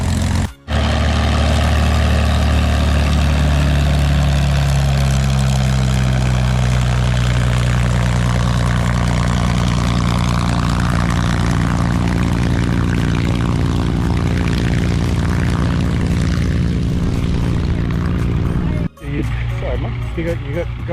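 A loud propeller aircraft roars overhead at Watts Bridge airfield, its engine drone rising and sweeping in pitch as it passes close, with voices underneath.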